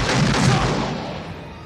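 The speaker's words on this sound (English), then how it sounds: "Don't fire the gun while you're talking." A gun fires in a 1988 slapstick crime comedy film, a single loud blast whose echoing boom decays over about a second and a half.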